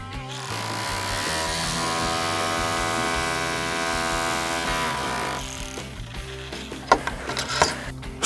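A rotary hammer fitted with a nailing attachment drives nails into shed boards, giving a loud steady buzzing hammer drone for several seconds, then stopping into scattered knocks and clatter.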